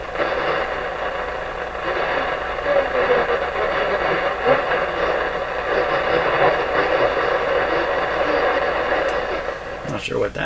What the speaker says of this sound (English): So that sounds like ham radio.